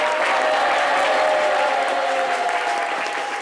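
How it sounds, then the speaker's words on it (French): Sustained audience applause fills the room, dense and steady from start to finish, easing off slightly near the end. "On les raccompagne avec des applaudissements."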